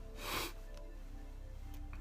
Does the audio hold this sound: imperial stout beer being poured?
no